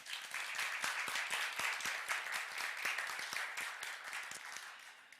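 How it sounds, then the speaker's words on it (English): An audience at a fintech conference awards event applauds in a sustained, dense round of clapping that fills the room and slowly fades toward the end. "I really believe that Lithuanian fintech ecosystem deserves a round of applause"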